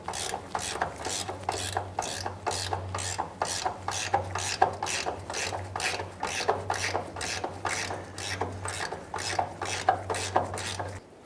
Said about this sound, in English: Let's go ahead and remove our ground bolts here.